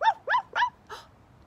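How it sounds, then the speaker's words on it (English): A dog gives four quick barks in a fast, evenly spaced series, close and clear, with the last bark softer than the first three. "Barking dog."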